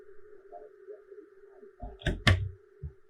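A door shutting in the stealth horror video game Hello Neighbor: a couple of sharp, close thuds over a steady game hum, with a faint voice murmuring before them.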